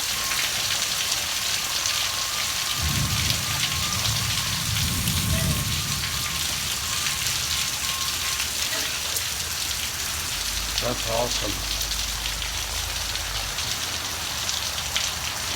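Rain falls at night in Georgia in a constant dense patter on surfaces. Low rumbles come and go under the downpour, and someone speaks briefly.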